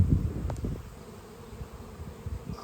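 Bumblebees buzz faintly outdoors near a honey harvest, a soft, wavering drone with a few brief louder passes close by.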